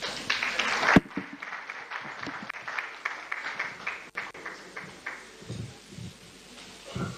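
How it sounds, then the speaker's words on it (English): Applause fills the hall at a high-level inter-ministerial conference on World Press Freedom Day, a sustained moderate wash of clapping with a sharp thump early on and some murmuring voices mixed in. "Please resound the round of applause for the Executive Secretary, Nigerian Press Council"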